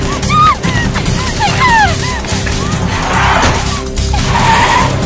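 Car chase with tires squealing loudly in several sharp, whining skids, close and intense, followed by a harsher scraping rush of noise as the car swerves away.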